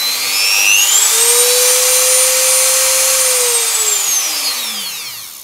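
A light Dremel hand rotary tool with a bit fitted whines steadily and loudly, its pitch rising as it spins up, holding high, then sliding down as it winds off near the end.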